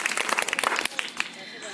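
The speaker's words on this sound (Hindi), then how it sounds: "ताली बजाने लगी" A school quiz audience applauds a correct answer with a brief burst of rapid clapping that thins out after about a second, with voices talking underneath.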